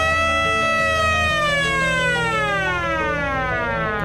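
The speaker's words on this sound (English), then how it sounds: "how about printing some functional props, such as this really loud siren?" A loud 3D-printed prop siren wails continuously, its pitch sweeping slowly downward, close and unbroken for the whole stretch.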